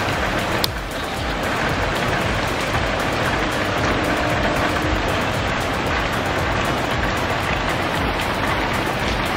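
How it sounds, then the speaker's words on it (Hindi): Heavy rain pours down outside in Kolkata in January as a dense, loud, steady hiss that holds for several seconds, broken once by a single sharp tap near the start. "you can see the weather is crazy outside. It's raining cats and dogs."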